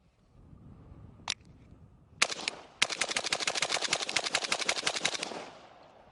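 About ten rapid gunshots fired at a target in quick succession, a loud dense burst after a couple of isolated earlier shots, with no talking.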